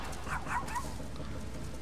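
Game dog from Tokyo Jungle on PS3 gives a few quick yelping barks and whimpers, fairly faint, over steady game background noise.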